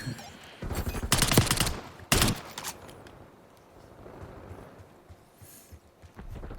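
Gunfire in Call of Duty Black Ops 6 multiplayer, two loud bursts of rapid automatic shots close together, then quieter game ambience with faint distant activity.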